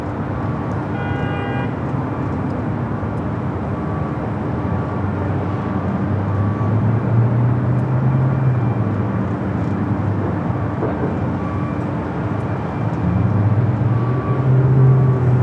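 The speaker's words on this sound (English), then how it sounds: "Freighter did take off on the south side, is on the pond." A freighter jet taking off from the south side of a large airport, its engine roar a steady broad rumble heard from a distance, swelling slightly toward the end, with no talking.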